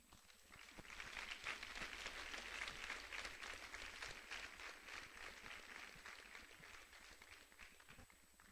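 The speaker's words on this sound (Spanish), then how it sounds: "dele un aplauso al Señor" A church congregation applauds steadily during a pastor's sermon, a dense, even patter of many hands that holds for several seconds at a modest level, heard alone without talk.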